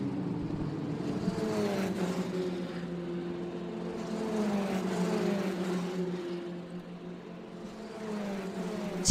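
F3 Asian Championship race cars lapping the Yas Marina circuit, engines whining and shifting pitch in the distance as they rise and fall in a continuous drone, fairly faint with no talk.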